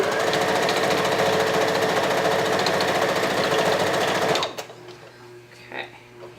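A sewing machine stitches a blanket, running in a fast, steady, loud mechanical chatter for about four seconds before stopping abruptly, followed by quiet handling noises.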